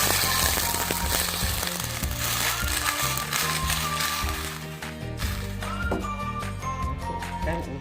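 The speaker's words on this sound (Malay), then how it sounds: "Okey, kita tumiskan bawang putih. Kita masukkan sedikit air." Garlic is sautéed in a pan with a little water while making tapioca soup. It gives a continuous close sizzle with light clinks over tonal background music.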